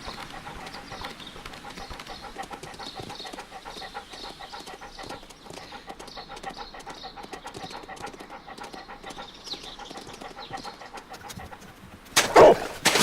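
A dog runs in the Sherlock Holmes: Crimes and Punishments video game, its quick, even footfalls repeating throughout like a galloping horse over faint background sound, with a louder burst right at the end.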